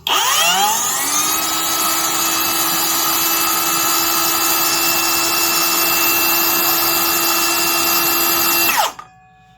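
A Vevor 7-1/4 inch brushless circular saw spins up and runs free, a loud, steady high-pitched whine with a rushing blower hiss, holding constant before cutting off sharply near the end.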